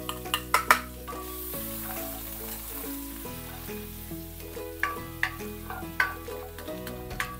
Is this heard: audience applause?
no